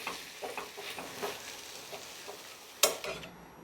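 A spoon stirs a spiced onion mixture with turmeric and red chilli powder in a pan over low sizzling, giving soft rhythmic scrapes and a single sharp metallic clink near the end.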